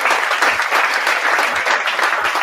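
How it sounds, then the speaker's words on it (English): Loud, close audience applause at a talk show taping, dense clapping sustained throughout the short stretch with no talk over it. "thank you so much, guys, for the applause"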